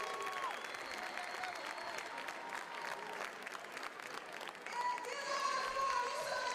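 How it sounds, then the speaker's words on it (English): A stadium crowd applauds and cheers Quincy Wilson's win at the New Balance Nationals, a dense, steady wash of clapping with faint voices mixed in throughout. "Clap it up for Quincy."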